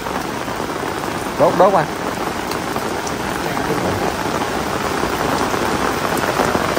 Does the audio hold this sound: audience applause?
no